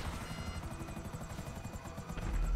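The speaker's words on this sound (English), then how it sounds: "This is not a good sound for a helicopter to be making." A helicopter in Grand Theft Auto V making a bad, labouring sound: steady rotor chop with a rhythmic pulsing whine, loud and continuous, no talk.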